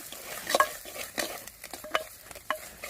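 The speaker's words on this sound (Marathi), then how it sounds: "काळा मसाला चांगला परतून घेऊया" Black masala (kala masala) is roasted and stirred in a pan with very little oil for a village-style mutton dish; a spoon scrapes and clinks in several quick strokes over a soft, dry sizzle.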